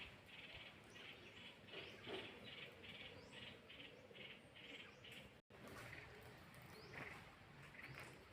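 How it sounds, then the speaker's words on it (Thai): Birds chirp and coo inside a reverberant Buddhist temple hall, a steady chorus of repeated calls over a faint background hum. "จะมีเสียงนกร้องอยู่ภายในนั้น"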